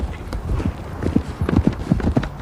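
Horse hooves clip-clop in a quick, steady rhythm during a medieval lance charge, fairly close and loud, with occasional faint voice in the background.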